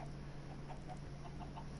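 Minecraft chickens cluck in the video game in a short run of soft, evenly spaced blips over a steady low hum and background hiss.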